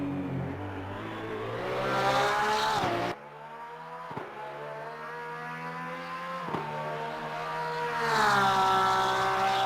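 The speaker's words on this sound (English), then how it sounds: "You hear it popping when it shifts, like it's upshifting." A video game race car engine, a Lexus RC F or Porsche 992 GT3 R at Monza, revs high and drops sharply with each popping upshift, pitch climbing again after every gear change, loud and steady throughout.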